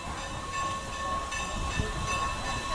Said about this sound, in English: we see 475 returning to the station